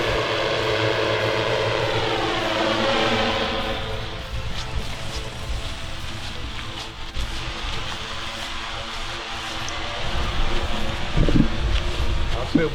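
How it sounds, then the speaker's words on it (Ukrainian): A military fixed-wing drone flies back in automatic mode to land at its takeoff point, its steady propeller engine drone droning loudly and continuously outdoors with wind buffeting the microphone. "І дрон зараз автоматично повинен сісти там, де він е, взлітав."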